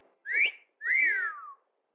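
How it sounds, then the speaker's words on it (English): Cartoon bird's wolf whistle from the 1937 animated Snow White film: two clear whistled notes, a short rising chirp then a longer rising-and-falling swoop, alone against silence. "it wasn't just builders making wolf whistles, but little birds trying to get their little rocks off"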